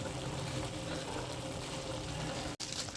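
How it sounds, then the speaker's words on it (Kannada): Water boiling in a pot on the stove while a Mandya-style green gram and spinach gravy is prepared: a steady, dense bubbling hiss that holds for nearly the whole stretch, broken by a brief drop near the end. "ಅದು ಕುದೀತಾ ಇದೆ ನೋಡಿ"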